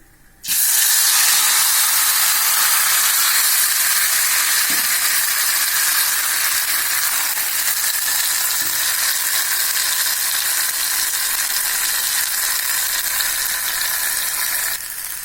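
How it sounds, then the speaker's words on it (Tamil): Elephant foot yam pieces frying in hot oil in a pan, an abrupt loud hiss as they hit the oil, then a strong, sustained sizzle that stays close and even for the rest of the clip, with no talking. "இப்போ நம்ம இதில் சூடாக எண்ணெயில் போட்டுடலாம்."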